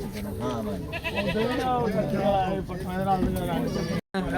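Goats bleat at a livestock market in Bargari, repeated wavering cries close by, mixed with the steady chatter and murmur of people talking around them.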